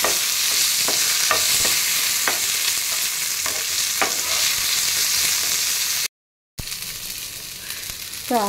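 Tamarind and tomato sautéing in a pan for ridge gourd chutney: steady sizzle with spoon stirring taps, broken by a short silent gap, then resuming with a faint voice near the end.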